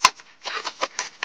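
Paper being distressed by hand for a junk journal, heard as a short sharp crinkle followed by several separate rubbing and scraping strokes, close and moderately loud, with no talking.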